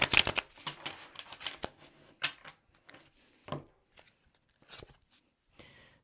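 A deck of tarot cards is shuffled close by in quiet surroundings: a quick flurry of riffling at the start, then scattered soft slides and taps.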